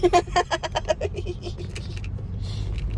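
Car traffic on a nearby road makes a low, steady engine rumble that builds and holds. Brief chirpy tones sound at the start, then the rumble continues alone.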